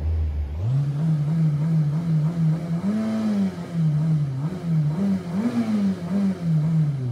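A Volkswagen Golf 7 1.5 TSI engine, fresh after an oil change, starts up and settles into a close, steady idle, then is gently revved in a few soft, rising swells, with no talking.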